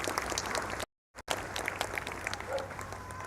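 An outdoor Anzac Day parade crowd in Devonport claps for a 102-year-old veteran, a scattered, fairly distant patter of hands in open air, briefly cut by a dropout.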